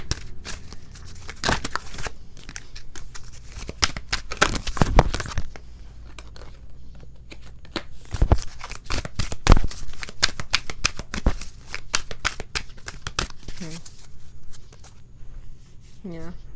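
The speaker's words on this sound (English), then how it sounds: "And then we're gonna pull an oracle card." Oracle cards being shuffled by hand during a pick-a-card tarot reading, with repeated crisp riffles and flicks in uneven bursts, close and fairly loud, with occasional quiet sounds between.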